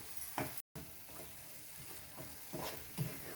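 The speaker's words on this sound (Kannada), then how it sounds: "ಕಮ್ಮಿ ಉರಿ ಇಟ್ಕೊಂಡು ಈ ಮಸಾಲನ ನಾವು ಇದರಲ್ಲಿ ಫ್ರೈ ಮಾಡ್ಕೋಬೇಕು" Masala spices, including garam masala powder, frying in a pan on a low flame for an egg fry, giving a soft, steady sizzle with faint stirring scrapes at a slow rhythm and no talking.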